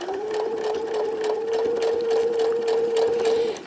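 A sewing machine runs a short, steady top stitch through cat costume fabric with furry felt, giving a continuous close-up whir with a rapid needle rhythm, heard alone for a few seconds.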